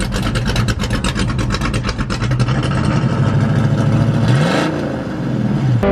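A stock BMW E36 engine revs hard during a drift, a loud continuous roar that rises and falls with throttle and wavers in pitch, with no voices over it.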